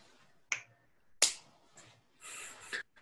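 Two sharp finger snaps about a second apart in a quiet room, followed by faint rustling and a brief breathy hiss.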